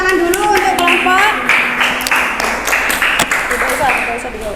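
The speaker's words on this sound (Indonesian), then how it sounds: "tepuk tangan dulu untuk kelompok" A class claps for a student group at a school lesson on hikayat texts, the clapping loud and close with shouting voices over it throughout.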